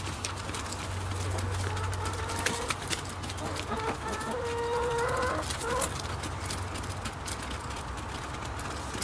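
Chickens at an allotment cluck and murmur softly nearby, with a few short calls among scuffling and rustling outdoor noise.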